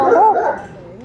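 A dog gives a drawn-out whining, howling vocalization that fades over about a second, loud and close, in a yard near a gazebo where several dogs, including a Belgian breed, are kept.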